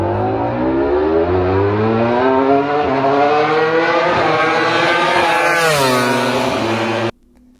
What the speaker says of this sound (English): This is a clip of them testing a V4 engine in their MotoGP bike.